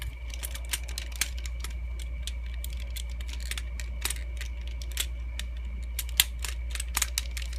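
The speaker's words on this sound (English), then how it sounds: "you'll know you have it in once it starts clicking into place" Plastic parts of a Timeforce Megazord toy snap together in a quick series of sharp, close clicks, irregular in rhythm, over a low steady hum.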